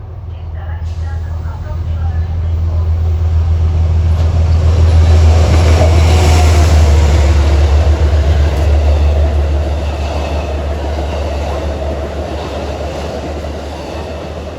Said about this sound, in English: Here comes 244 from Amtrak.